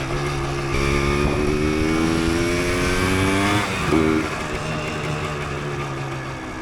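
A 1988 Yamaha DT200 two-stroke motorcycle rides steadily, its engine droning loud and close with rising and falling pitch as it shifts, holding a continuous buzz throughout.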